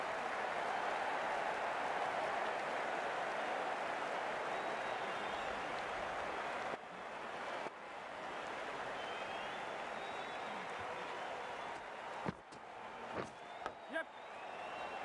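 A crowd at a sports match applauding, a broad hiss of many clapping hands that holds steady for several seconds, then fades and thins, ending with a few scattered louder knocks.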